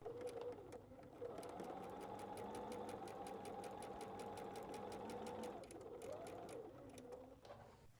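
A domestic sewing machine runs steadily while stitching patchwork fabric, a continuous whirring hum with rapid needle ticks that pauses briefly near the end, then resumes more faintly.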